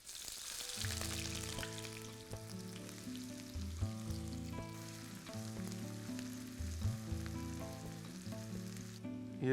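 Onion, ginger, garlic and green chili fry in a pan for chicken and potato curry, giving a steady sizzle beneath a melodic background tune, with no talking.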